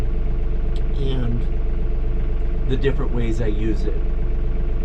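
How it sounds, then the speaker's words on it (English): A John Deere 3046r compact tractor idles steadily while warming up, a low constant engine hum running under a man's speech. "just letting the tractor warm up for a minute here"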